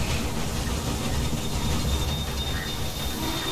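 A long freight train in the game Railway Empire pulls into a New York station with a steady loud rumble of rolling wheels, faint clickety-clack and a thin wheel squeal running throughout, heard alone with no talking.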